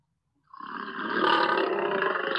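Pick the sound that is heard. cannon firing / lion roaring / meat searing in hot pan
lion roaring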